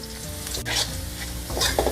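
Garlic fries in hot oil with a little salt, a steady close sizzle with occasional stirring scrapes in the pan.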